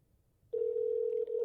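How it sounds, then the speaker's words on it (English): A steady telephone ring tone starts abruptly after a short silence and holds continuously, with a brief dip in level near the end. "Well, it's ringing."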